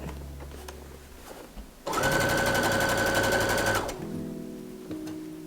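A sewing machine stitches a sweatshirt in one loud, rapid burst of about two seconds, close by, with quieter handling sounds before and after.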